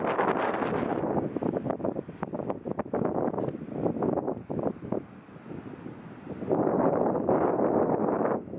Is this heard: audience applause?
no